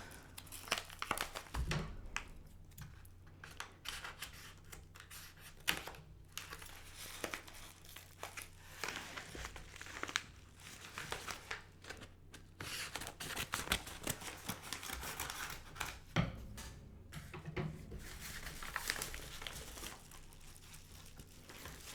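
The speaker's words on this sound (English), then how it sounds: "let's open this yellow envelope." A yellow paper envelope holding books is torn open and handled, producing close, irregular crinkling, rustling and tearing sounds in bursts, with no talking.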